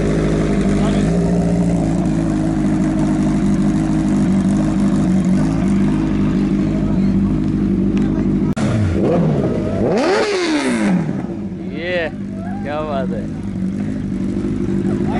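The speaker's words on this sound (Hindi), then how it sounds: "ये है जोहर भाई की गाड़ी का साउंड" At a chicane race track, Johar bhai's vehicle engine roars at full rev, a loud, close, sustained drone. Later it drops away, then sharp rising and falling revs sweep past, with voices talking over it.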